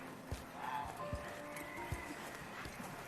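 Horse hooves clip-clopping at a slow walk on hard ground, a few distinct knocks spaced about a second apart over a quiet outdoor background.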